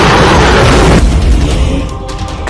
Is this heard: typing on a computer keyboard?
no